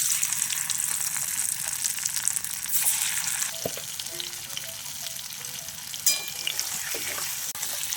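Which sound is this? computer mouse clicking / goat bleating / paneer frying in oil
paneer frying in oil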